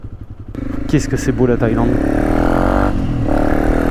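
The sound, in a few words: motorcycle passing on a road in Thailand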